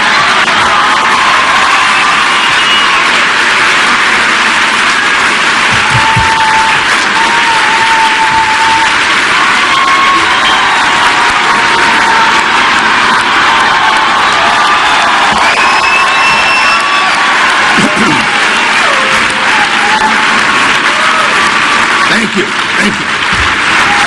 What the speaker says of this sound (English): those of you watching at home may wonder why this is being applauded